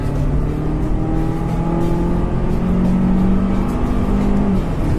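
A 2015 Volvo XC60 engine revs steadily toward about 5,500 RPM, a loud, continuous drone with rising harmonic tones heard from inside the cabin, no talking over it.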